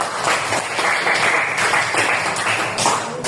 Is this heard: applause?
yes